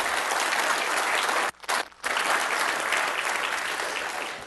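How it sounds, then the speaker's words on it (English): An audience at a talk on building healthier communities gives a dense round of applause, loud and steady with two brief gaps in the middle before the clapping continues and slowly tapers. "one more round of applause"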